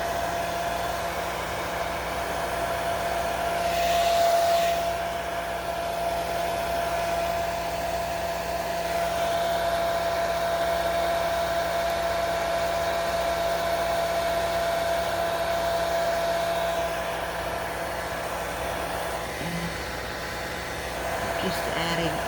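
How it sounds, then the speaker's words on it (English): A blow dryer on its cool setting runs steadily to dry alcohol ink on a painted hummingbird, a continuous airy whir with a faint constant tone lasting the whole stretch. "use my blow dryer on cool setting"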